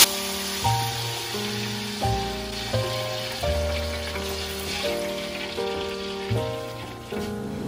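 Water hits a hot pot of frying ingredients for beef biryani and sets off a continuous bubbling sizzle and hiss. It runs steadily at moderate loudness beneath a melodic background tune.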